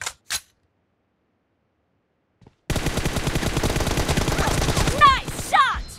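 After a few seconds of near silence, rapid automatic gunfire erupts in a 2v2 multiplayer shooter match: a loud, continuous rattle of closely spaced shots lasting about three seconds, ending in a couple of sharper bursts.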